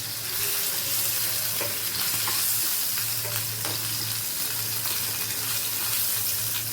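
Chicken pieces fry in a pan for butter chicken, a steady close sizzle and crackle with occasional stirring clicks and a low hum underneath, no talking.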